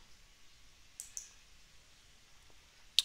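Two or three soft, dry computer mouse clicks sound close by against a quiet room.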